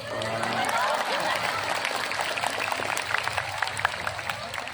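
A large outdoor crowd at an evening religious sermon in a town square applauds in a dense, continuous wash of clapping that gradually thins, with scattered claps and crowd murmur.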